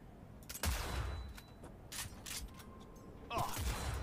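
Sniper rifle fire in the video game Cyberpunk 2077, with several sharp shot cracks and mechanical clacks at low volume, spread irregularly across the stretch.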